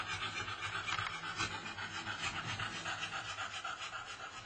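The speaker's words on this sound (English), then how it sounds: "Little Miss has got back down 10 minutes after the last puppy, having good strong pushes" A whelping dog pants steadily in labour between puppies, rapid close breaths continuing throughout with no talking.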